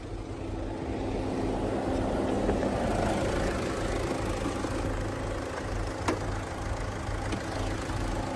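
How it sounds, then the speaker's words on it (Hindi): A 2.0 litre inline four-cylinder turbocharged BS6 Tata Kryotec (Fiat Multijet II) diesel engine in a 2022 Tata Harrier idling with the bonnet open, a steady low rumble with light knocking, moderately quiet and even throughout. "तो ये है 2000 CC inline 4 cylinder turbocharge BS6 Tata Kryotec Fiat Multijet 2 diesel engine."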